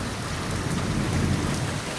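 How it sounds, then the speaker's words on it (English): A thunderstorm roars with dense, steady rain and a low rolling rumble of thunder underneath, loud and continuous throughout with no voices. "now the lightning we're experiencing, more or less the thunder, when it hits it's hitting hard"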